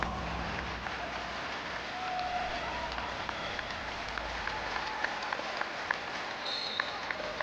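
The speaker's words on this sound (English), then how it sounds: "Please give them a huge round of applause." A crowd claps steadily at a women's college volleyball bronze semifinal, a dense, even patter of many hands heard from some distance, with faint arena noise and occasional louder claps.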